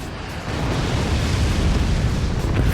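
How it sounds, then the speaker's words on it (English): A cannon shot explodes in the strategy game Forts. It is a loud, sustained, rumbling blast that swells after a brief lead-in and roars on without a sharp ending, with no voices over it. "Another cannon shot."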